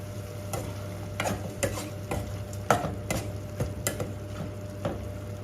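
Pork stir-fries in a pan as its liquid cooks down for a Thai red curry, with a soft sizzle under a run of sharp spatula scrapes and taps at irregular intervals, close and fairly quiet.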